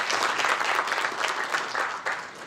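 A conference audience at a Korean policy event on the Fourth Industrial Revolution gives a round of steady, fairly loud clapping that swells and dips briefly and continues to the end.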